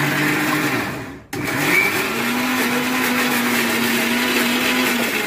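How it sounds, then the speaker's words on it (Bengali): A kitchen mixer grinder whirs loudly as it grinds soaked lentils into paste, a steady motor drone with a steady hum that briefly cuts out, then restarts and runs on evenly. "ডাল পেস্ট করছি, ওই যে মিক্সিতে করছি আরও"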